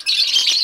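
A pet kuryat, a bird being bred at home, lets out one loud, harsh, shrill squawk close by, lasting under a second, with no talking.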